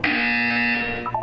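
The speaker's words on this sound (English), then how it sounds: "When you hear the buzzer, look up at the ceiling." A harsh, steady electronic buzzer from the video game Portal 2 drones loudly for about a second before cutting off, followed by a short, higher tone.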